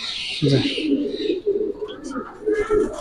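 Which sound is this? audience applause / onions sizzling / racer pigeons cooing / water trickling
racer pigeons cooing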